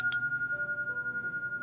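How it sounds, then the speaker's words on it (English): A single bright hand bell strike, from a horror movie prop bell, rings out clearly, its high tones lingering and slowly fading with a gentle wavering shimmer. "I'm ringing Mrs. Mullins' bell."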